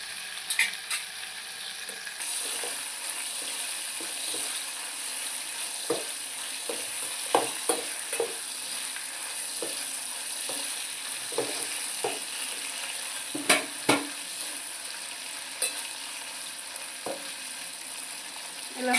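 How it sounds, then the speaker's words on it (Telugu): Pieces of liver sizzle and fry steadily in a pan, with occasional clicks and scrapes of stirring over the continuous crackle; no talking. "ఇలా ఫ్రై అవుతున్నాయి కదండి"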